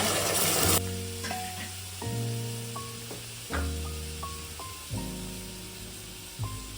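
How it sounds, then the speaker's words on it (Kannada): A loud sizzle of ground paste for basale greens sambar frying in hot tempering oil, crackling steadily and then settling, with some tonal sounds layered over it and no talking. "ರುಬ್ಬಿರೋದನ್ನ ಒಗ್ಗರಣೆಗೆ ಹಾಕೊಳ್ಳೋಣ"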